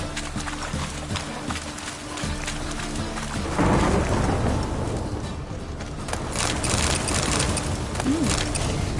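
Steady rain with rolling thunder in The Witcher 3 game world, a broad rumbling swell building midway and lingering over continuous downpour, with a brief tonal game sound near the end.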